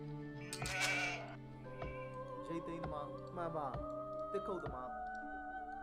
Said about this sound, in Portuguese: Ali nós temos as primeiras ovelhas.